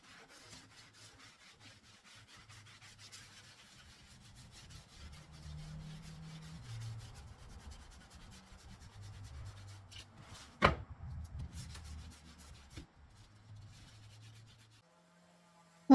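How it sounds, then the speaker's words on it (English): Steel wool with soap and water scrubbing an old wooden blueprint cabinet, a steady close rubbing and rasping that runs in uneven strokes, with one sharp knock partway through. "I'm just using soap and water and some steel wool"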